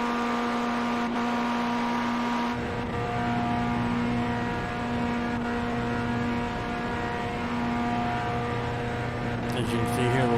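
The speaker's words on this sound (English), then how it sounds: "It's bouncing off the rev limiter a little bit." A Pontiac Solstice race car's engine holds a steady, buzzing high-rpm drone in iRacing, repeatedly bouncing off the rev limiter for the full stretch while someone talks over it.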